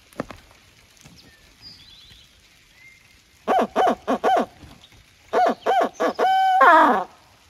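A turkey hunter imitates an owl hoot with his voice before dawn in cloudy, drizzly West Virginia woods, giving two loud close series of rhythmic hoots that end in a drawn-out, trailing call.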